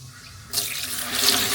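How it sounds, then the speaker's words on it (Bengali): Water pours from a tap into a bowl of fragrant home-grown Bhog rice being rinsed once, a sudden broad splashing rush that starts partway and grows steadily louder. "চালগুলো বেশি ধুতে হবে না, একবারেই ধুয়ে নেব"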